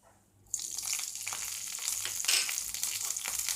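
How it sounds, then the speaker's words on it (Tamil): Green chillies dropped into a hot pan for Tirunelveli-style mappillai sodhi: near-silence, then a sudden loud sizzle that keeps crackling steadily up close. "இந்த பச்சை மிளகா போட்ட உடனே அதை வதங்கிடும்"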